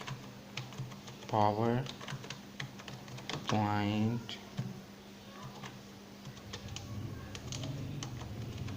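Computer keyboard being typed on while entering a quiz question in PowerPoint, a quick irregular run of light close clicks heard under a person talking.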